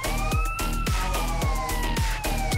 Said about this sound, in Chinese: 没看我这拉警报，你不给我让一下吗？